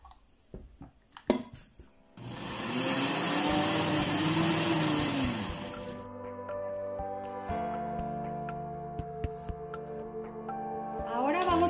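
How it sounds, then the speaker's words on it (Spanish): A kitchen blender whirs as it purées cumin, onion and three garlic cloves for adobo sauce, starting after a few clatters and running loud and steady before its pitch shifts as the mix loosens. "Y vas a licuar."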